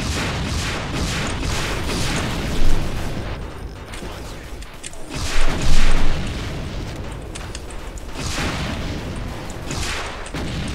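Heavy rocket blasts in the video game Brutal Doom, a dense run of loud booming explosions with rumbling bursts, strongest near the middle, over continuous game noise with no talk.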